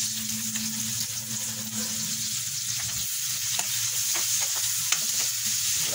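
Garlic and onion sautéing in a pan for a mung bean dish, a steady close sizzle throughout with a few soft stirring scrapes and taps toward the end.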